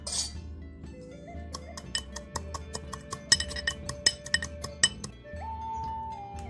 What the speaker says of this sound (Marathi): त्या थोडीशी साखर घालून आपण बारीक कुटून घेऊया.